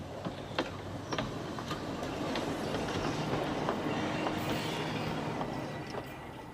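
An electric mountain railway car on the Isle of Man climbs toward the summit, rumbling steadily along the track, wheels clicking and rattling with occasional squeaks, a continuous mechanical drone throughout.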